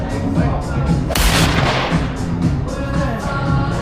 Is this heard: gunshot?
yes